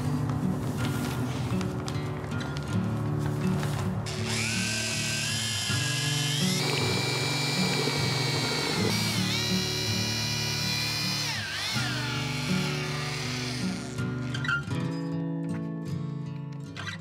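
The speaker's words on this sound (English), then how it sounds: "Mix a small amount of modified Thinset mortar to embed the tape." A power drill with a paddle churns modified thinset mortar in a bucket, a loud, close, whining motor drone that shifts pitch as the speed changes, running almost without a break before cutting off near the end.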